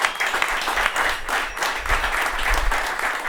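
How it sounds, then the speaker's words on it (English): Audience at a bar-hosted talk applauding two guests, a short burst of lively clapping from a modest crowd lasting a few seconds, with some whoops or voices mixed in. "So a round of applause for these 2 guys."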